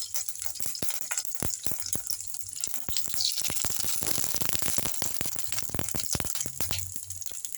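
Cumin seeds and dried red chillies fry in hot oil, a steady crackling sizzle with sharp popping bursts close up, continuous throughout.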